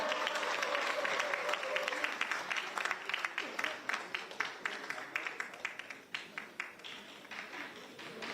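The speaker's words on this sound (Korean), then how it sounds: "큰 박수로 맞이해 주시기 바랍니다." Applause from a crowd at a Korean political party gathering, dense clapping at first that thins into scattered, rhythmic claps, moderately distant.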